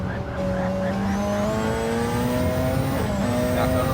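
An LMP race car in Gran Turismo 7 accelerates on the Maggiore circuit. Its engine note climbs steadily through the gears as a loud, continuous whine with a brief shift dip near the end.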